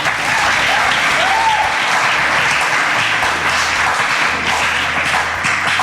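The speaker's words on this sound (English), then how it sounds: "A round of applause for him." Studio audience at a television show gives loud, dense, sustained applause, a steady wash of many hands clapping from start to finish with no break.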